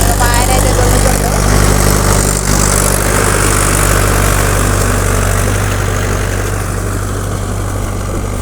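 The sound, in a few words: tractor engine ploughing field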